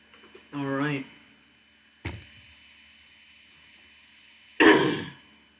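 A person coughs and clears their throat in three separate short bursts, with quiet pauses between them, close and fairly loud.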